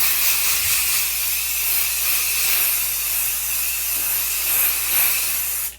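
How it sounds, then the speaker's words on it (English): A continuous, even hiss of spray adhesive from an aerosol can, held steadily for several seconds before cutting off. "all you do is you just spray a little layer"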